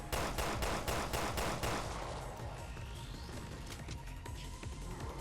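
Pistol gunfire in Resident Evil Revelations 2 Raid Mode: a rapid run of sharp, loud shots in the first two seconds, then a noisy game din as the firing stops.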